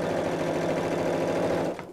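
A close, loud sewing machine hums steadily at full speed as it stitches a seam on a zip pocket bag, a continuous run that cuts off sharply near the end.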